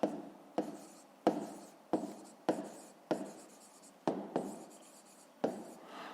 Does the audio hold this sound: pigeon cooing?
no